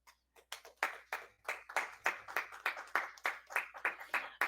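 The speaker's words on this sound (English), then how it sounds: "Everyone give Nikki another round of applause." Audience at a university anniversary gala claps in bursts, a series of sharp, fairly close handclaps in an uneven rhythm that builds into steady applause over a few seconds, with no talking.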